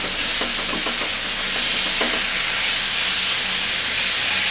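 Onion, ginger and garlic paste frying in a pan, with a steady loud hiss and a few soft stirring scrapes near the start, heard alone.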